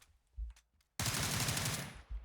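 Rapid automatic gunfire in PUBG's training mode, aimed at character-model targets on a shooting range: a loud sustained burst of shots, preceded by a few faint clicks and followed by a short thud.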